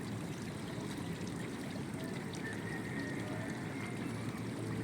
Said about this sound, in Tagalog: Ito yung ilog dito sa tapat ng bahay ko sa barangay Nangka, Marikina City.